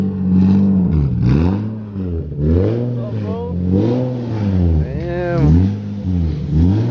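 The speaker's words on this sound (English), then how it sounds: "you can get how crazy the Tomei exhaust sounds." A Nissan 370Z with a full titanium Tomei exhaust revs repeatedly, each blip rising and falling in a loud, rhythmic wave of throaty engine tone close by, with a voice briefly exclaiming over it.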